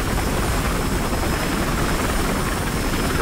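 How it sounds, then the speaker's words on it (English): A helicopter in a video game, Battlefield Hardline: steady, loud rotor and engine drone fills the whole stretch without letup, close and unbroken, with no talking. "there's a helicopter."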